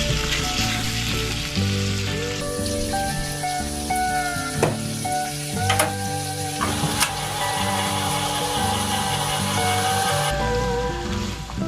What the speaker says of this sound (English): Add the chopped onions. Make sure to really break up your ground beef.